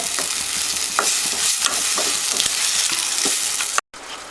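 Tomatoes sauté in a pan with a loud sizzle, while a spoon scrapes and stirs in repeated strokes before a brief cut at the end.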